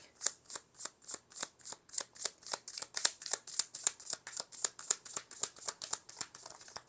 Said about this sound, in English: I'm gonna pick three main tarot cards from this Muse Tarot